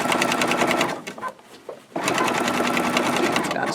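Sewing machine running a zigzag stitch across ready-finished fabric placemats while building a fabric box, a steady loud whir that drops out briefly midway before resuming at full speed.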